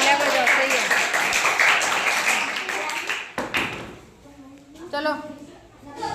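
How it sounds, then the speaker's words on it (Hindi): A classroom of children claps hands together, a brief rapid burst of applause that fades, followed by a teacher's voice speaking. "तालियां बजाओ।"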